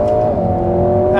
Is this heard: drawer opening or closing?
no